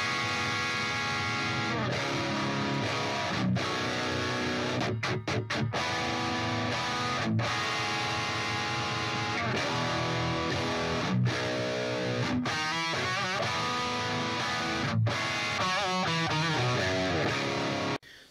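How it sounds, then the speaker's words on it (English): Loud, heavily distorted electric guitar chugging through a Marshall JCM 800 amp turned up very loud, steady and dense with brief stops between riffs. "that is just a Marshall JCM 800 turned up really, really, really loud"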